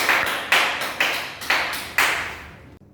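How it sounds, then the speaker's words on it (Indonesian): A class of first-grade elementary pupils claps together in a classroom, about five sharp, evenly spaced bursts of hands landing roughly half a second apart, each ringing briefly in the room before the clapping stops. "silakan tepuk tangan untuk kita"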